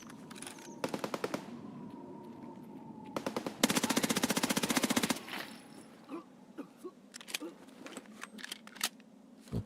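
Video game gunfire comes in several rapid automatic bursts, one long sustained volley in the middle, then scattered single shots and light clicks against a quiet background.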